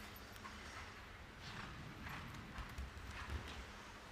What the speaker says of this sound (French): Le cheval est assez à l'aise.